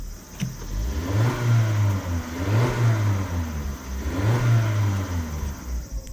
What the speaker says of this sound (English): The engine sounds more powerful than it really is